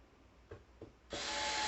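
A couple of soft clicks of fasteners being set on a DIY picture frame, followed by a sudden steady whir of a small power tool tightening them down, close and fairly quiet.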